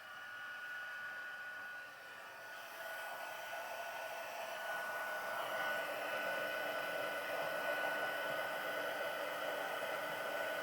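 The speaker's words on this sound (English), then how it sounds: "I will get my heat gun here. Heat this up." A heat gun used for card crafting blows a steady, hissing stream of hot air, starting slightly softer and then holding a constant loud whoosh, close up with no talking.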